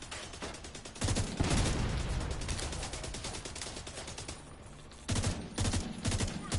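Rapid automatic gunfire from shooting at enemies in The Division 2, loud and close, with sustained bursts lasting several seconds, a brief lull, then a renewed volley.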